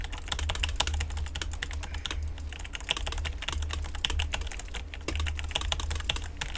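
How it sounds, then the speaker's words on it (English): Fast bursts of keystrokes on a compact 60% mechanical keyboard, close-up clicks and clacks in an uneven rhythm with a couple of short pauses, over a steady low hum. "It definitely sounds better than my other keyboard."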